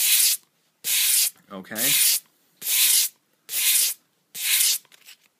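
Knife blade stroked back and forth across a cheap sharpening stone, five or six even rasping strokes with short pauses between them, close and clear, with one brief spoken word partway through.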